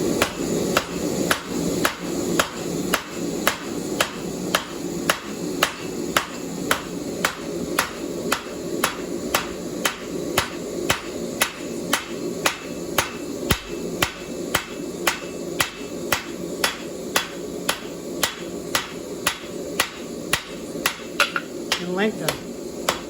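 A cross peen blacksmith's hammer strikes metal in a steady, rapid rhythm, dozens of ringing blows in a row, fairly close and even in loudness.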